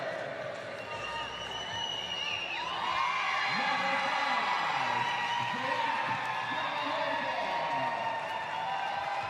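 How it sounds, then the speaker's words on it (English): A FIBA 3x3 World Tour basketball crowd in Mexico City reacts as a Mexico UNAM player comes out, a sustained roar of whistles and jeers swelling after a few seconds, with an announcer talking over it. "The crowd's let him hear it."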